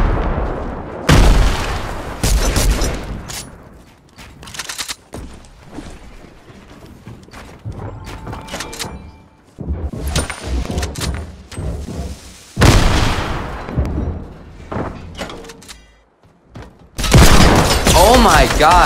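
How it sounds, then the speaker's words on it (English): Grenade explosions in a video game, several loud booms and bursts of gunfire separated by quieter gaps, with a voice talking at times. "I threw some grenades in."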